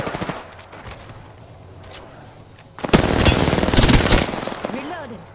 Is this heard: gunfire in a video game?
yes